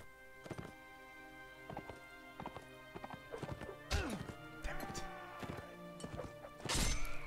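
Horse hooves clop and a horse neighs in the Nova Aetas video game: scattered hoof thuds and impacts over a steady background tone, then loud whinnies rise near the middle and at the end.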